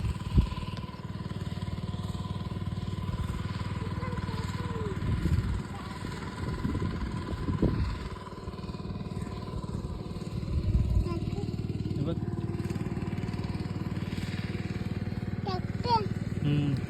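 A tractor engine runs in a steady, close, rumbling drone with a constant low throb throughout. The pitch and loudness shift slightly along the way, and faint voices may be present.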